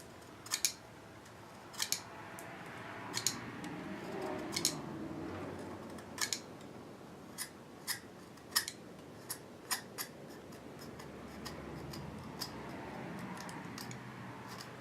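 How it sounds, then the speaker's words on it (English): A pencil is sharpened with a utility knife, giving sharp, crisp scraping clicks at irregular intervals of roughly one to two seconds, close and clear over a quiet background. "Got to sharpen my pencil."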